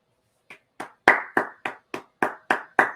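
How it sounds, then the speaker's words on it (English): Nine crisp hand claps from a single nearby person ring out in a steady, slightly accelerating rhythm, starting after half a second of silence, with no voices. "Round of applause, Hornets."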